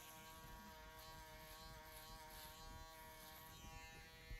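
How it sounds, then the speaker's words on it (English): An electric shaver buzzing steadily at a barbershop while cleaning up a haircut, a continuous faint motor hum with no breaks across the whole stretch and no talking. "And then we're gonna do the shaver again."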